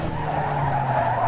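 A car brakes and its tires skid in Need for Speed Underground 2, a steady, loud screech over engine drone that lasts the whole moment.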